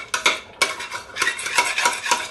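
A utensil stirs fried egusi in oil inside a pot, giving quick scraping and clinking strokes in an uneven rhythm, close and fairly loud, with no voices.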